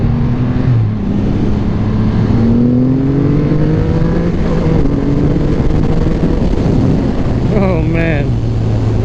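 2020 Triumph Rocket 3 R motorcycle accelerating hard in jet black trim, engine note climbing through gears with rising revs under steady wind rush, a rider talking over it now and then.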